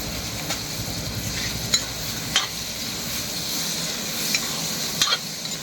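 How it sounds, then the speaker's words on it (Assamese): Tomato frying in a pan gives a continuous sizzle, broken by several sharp scrapes and clinks of a utensil stirring against the metal, heard up close with no talking. "দিলো বিলাহীটো আগতে ভাজি লওঁ গুড়াকে"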